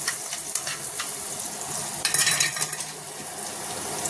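Finely chopped carrots sizzle in a hot pan with chili flakes and oregano, a steady close frying hiss broken by scraping stirs and light clinks of a utensil against the pan.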